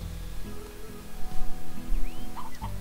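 Chickens in the video game Slime Rancher cluck and squawk repeatedly over a low droning game soundscape with some tonal sound effects, fairly loud and close, no speech.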